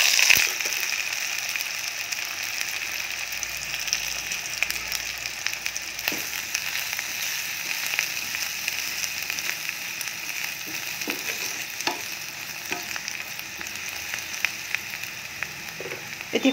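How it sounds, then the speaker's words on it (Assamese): Chopped onions fry in hot oil in a wok, giving a steady bright sizzle throughout with occasional small pops and clicks, close by and continuous. "তেলখিনি গৰম হৈছে, ইয়াত এতিয়া প্ৰথম কাটি থোৱা পিঁয়াজখিনি দিম।"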